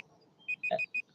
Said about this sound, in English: My timer has ended.